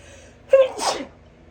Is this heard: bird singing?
no